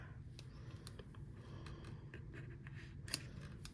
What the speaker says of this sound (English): And then we will trim that off.